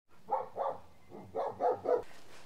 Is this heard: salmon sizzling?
no